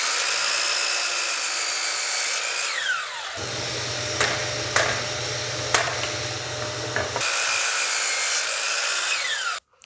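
Table saw making a taper cut through wood fed along a miter gauge, the motor whining alone then dropping in pitch as the blade bites, with a few sharp knocks during the cut before the whine returns and spins down.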